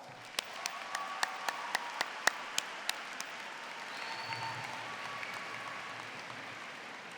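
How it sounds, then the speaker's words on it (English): Applause from the audience at a 2014 high school graduation ceremony, heard faintly and at a distance, a few sharper claps at the start and then a soft steady rumble of clapping. "let's show them our gratitude with a big round of applause"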